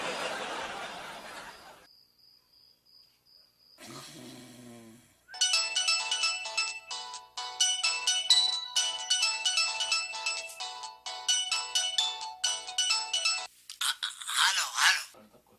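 A phone ringtone at night plays a bright, repeating melodic pattern loudly for nearly ten seconds after brief voices and a soft chuckle, with a short burst of noise at the end.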